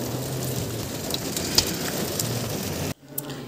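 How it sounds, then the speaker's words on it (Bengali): Light rain falls on a mountain road between Lachung and Gangtok in Sikkim, a steady close hiss with a few louder drops that cuts off abruptly near the end. "বৃষ্টি কম পড়ছে"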